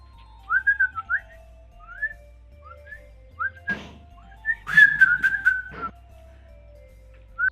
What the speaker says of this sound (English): Mexicans still whistle a lot to communicate with each other.